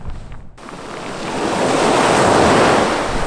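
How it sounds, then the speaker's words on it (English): Waves from Hudson Bay crash onto a cold beach at Churchill, Manitoba, a loud rushing surf that swells to a broad roar after a brief dip, mixed with wind buffeting the microphone and no voices. "Crashing on the beach right there. There's some waves."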